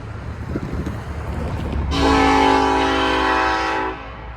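Union Pacific train horn sounding loud and steady for about two seconds at Hull Ave Yard, cutting in sharply over low rumbling rail traffic and then stopping abruptly.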